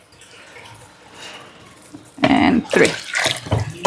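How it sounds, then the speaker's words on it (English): Water gushes from a kitchen faucet, starting abruptly partway through after a quiet stretch with a brief spoken word, then running loud and splashy. "I'm just gonna use the faucet water."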